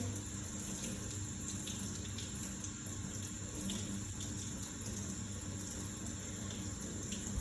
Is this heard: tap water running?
yes